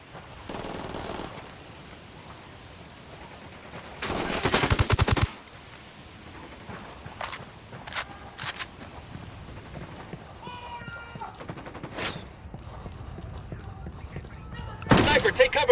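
Sniper gunfire in the video game Ghost Recon Wildlands, scattered sharp shots and bursts across the scene, a loud cluster early and another near the end, over quiet ambient background.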